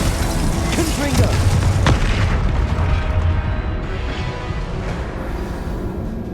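Explosive spell blasts from the Hogwarts Legacy video game, booming bursts thudding over dense combat noise and game music, with a voice speaking over the fight.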